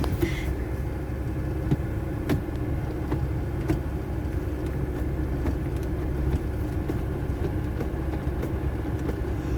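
A 2003 Porsche Boxster engine runs while it is shifted into second gear, a steady low rumble heard from inside the car with faint clicks and knocks scattered over the drone.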